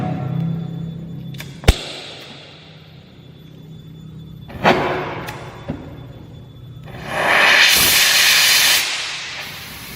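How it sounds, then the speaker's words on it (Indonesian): A gas welding torch for copper pipe is lit with sharp pops and clicks, then settles into a steady hiss that swells into a louder roaring rush toward the end. "Kita coba nyalakan nyala apinya. Kita coba tes untuk nyala apinya."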